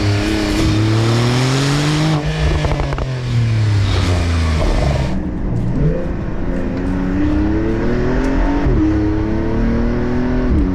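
A Porsche 911 Turbo S Cabriolet pulls hard at full throttle, its engine climbing through several gear changes, loud and close, with no voices over it.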